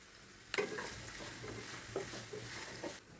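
Onions and green chillies fry in a pan for a fenugreek-leaf curry, a low sizzle broken by several distinct stirring scrapes and taps against the pan, close by, with no speech.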